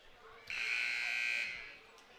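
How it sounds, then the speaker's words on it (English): Scoreboard buzzer at a high school basketball game in a gym, a single harsh electronic blast lasting about a second, fairly faint against the quiet hall. "And the first buzzer sounds."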